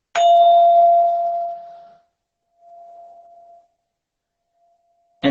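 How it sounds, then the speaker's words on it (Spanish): A harmonizer bell gives a clear tone that rings out and decays within two seconds, followed by a softer, shorter second ring and a brief clatter at the end. "Este es un armonizador de un amigo de Argentina"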